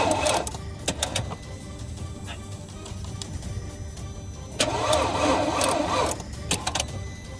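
A Porsche engine cranks on a weak battery, two bursts of sluggish, labored whirring from the starter separated by a quieter stretch, close and fairly loud.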